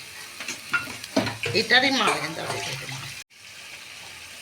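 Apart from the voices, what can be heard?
water poured into a pot of frying chicken tehari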